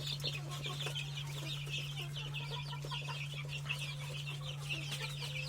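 Steady chorus of chickens clucking and chicks peeping, a busy continuous chatter throughout, close and fairly constant, over a low electrical hum.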